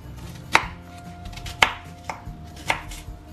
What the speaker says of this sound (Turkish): Daha küçük parçalara böleceğim ki robottan rahat geçsin.